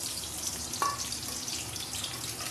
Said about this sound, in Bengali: এর জন্য নিয়েছি আমি কুচনো লঙ্কা, পেঁয়াজ, কুচনো রসুন। এটা তেলের মধ্যে আমি দিয়ে দেবো।